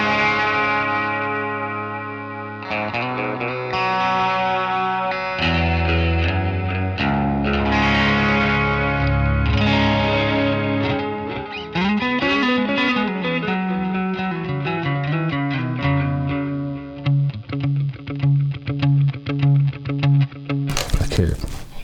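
Electric guitar through a Pigtronix Echolution 3 delay pedal with modulation, playing a continuous line of sustained, overlapping notes with audible repeats and wavering modulation, loud and close, ending in a short burst of noise.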